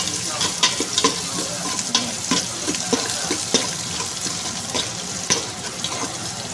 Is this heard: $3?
no